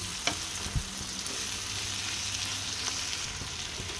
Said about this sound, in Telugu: చిక్కుడుకాయను ఇలా 2 నిమిషాలు బాగా ఫ్రై చేసిన తర్వాత